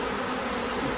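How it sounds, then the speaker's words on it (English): Dense, steady buzzing of many worker bees in an observation beehive, loud and close, a constant hum filling the whole moment. "they're quiet bees"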